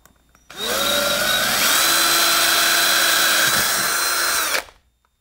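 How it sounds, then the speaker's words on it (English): A power drill whirs at high speed for about four seconds, drilling a hole for a boat transducer mount, its pitch dropping briefly as it bites in, then cutting off cleanly. "drill three new holes"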